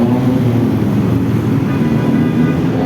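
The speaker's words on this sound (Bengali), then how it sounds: "এই জায়গায় হচ্ছে টুকটুকের সামনে মোটর সাইকেলের মতো শোনা যাচ্ছে" A tuk-tuk engine drones steadily in city traffic, a close, even rumble much like a motorcycle's, with no break across the short stretch.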